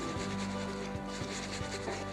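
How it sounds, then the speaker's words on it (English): Lemon rind scraped on a microplane grater gives a soft, rapid rasping rub with a few faint rhythmic strokes, close and quiet over a short moment. "And let's add our lemon rind. So just with a grater or a microplane."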